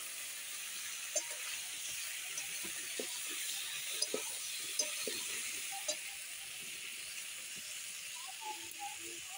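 Fresh cauliflower fries in a pan with a steady sizzling hiss, while a utensil stirs it now and then with soft scrapes and taps, all near and continuous, with no talking.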